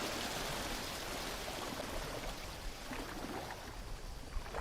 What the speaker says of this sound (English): The waterfall's nice and all, but the sound of it gets a little bit draining after a while